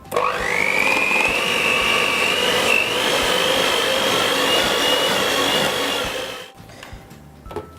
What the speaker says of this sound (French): avec le batteur, j'en profite, je vais venir détendre un petit peu cette crème